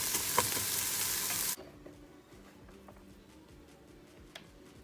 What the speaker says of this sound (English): I'm adding the onions.